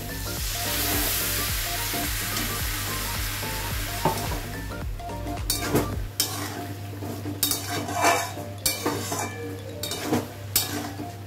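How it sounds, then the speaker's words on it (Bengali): Fried spice paste in a pan crackles loudly, then water goes in and the sizzle turns to a hissing rush, followed by repeated stirring clatters of a utensil against the pan. "মশলাটা ভাজা হয়ে গেছে। এবার একটু জল দিয়ে দেবো।"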